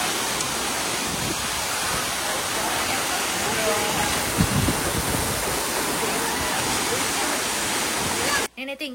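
Jeongbang waterfall on Jeju Island roars as a dense, steady broadband rush of falling water, loud and continuous throughout, ending abruptly.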